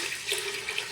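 Water poured onto rice in a cooker for cooking: a brief, faint, steady splashing pour lasting about a second.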